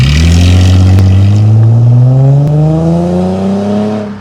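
A Ford Mustang V6 pulls away hard from a standing start, its engine note climbing steadily in pitch through the revs, loud and close with no talk over it.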